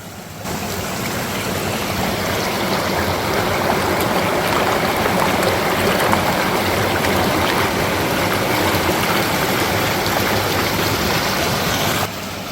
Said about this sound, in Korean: 개우의 물소리 제대로 한번 듣고 가야죠 그죠?